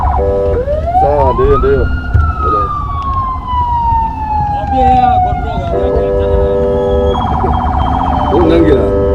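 Police-style electronic siren rising and sliding in pitch, then switching to a rapid warbling yelp, loud and close, with a voice talking briefly over it.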